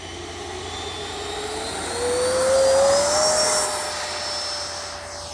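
An E-flite Viper or Freewing Avanti RC sport jet takes off, its ducted-fan whine rising steadily in pitch and loudness as it accelerates down the runway, peaking close by and then easing slightly as it climbs away.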